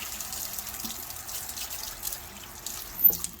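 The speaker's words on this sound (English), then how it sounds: "I'm just going to run them under a little hot water right now." Canning lids held under a running hot-water tap, a soft steady stream and trickle with faint splashing and a small clink near the end.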